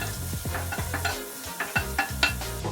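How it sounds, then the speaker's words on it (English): Minced garlic and ginger sautéing in a pan, a soft sizzle under repeated scraping strokes of a spoon stirring in an uneven rhythm, close by, with no speech. "Let it saute for a minute till the raw smell of the ginger and garlic goes away."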